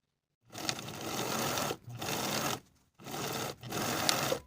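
A sewing machine stitches a lined woman's coat hem at a 3/8 inch seam allowance in four close, even bursts separated by brief pauses.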